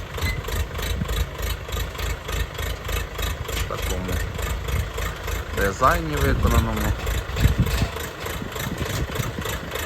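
A 50-horsepower tractor engine idles steadily at mid pitch with a rhythmic throb while a person speaks briefly over it.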